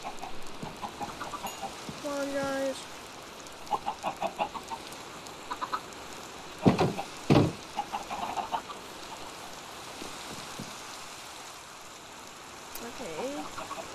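Chickens in Minecraft Java Edition cluck in short rapid bursts over a steady rainy hiss, a few clucks louder and nearer than others, while someone speaks briefly.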